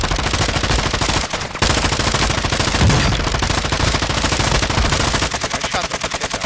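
Dense automatic gunfire from Call of Duty: Modern Warfare II, loud continuous bursts of rapid shots with brief pauses, layered with other weapons firing nearby.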